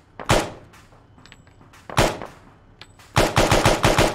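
Enemy mortar fire in the Arma military game: loud, sharp blasts, with one heavy impact near the start and another around two seconds, then a fast run of punchy bangs in close succession to the end, with no talk.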